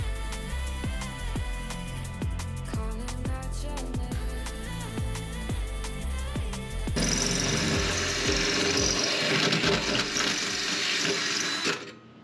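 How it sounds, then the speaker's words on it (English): A power drill bores holes into the underside of a Miata chassis, bursts of whirring with rhythmic catching pulses giving way to a louder, harsher grinding whine as the bit cuts through metal, close and loud with no talk. "drilling those 2 holes under the car while getting covered in metal shavings"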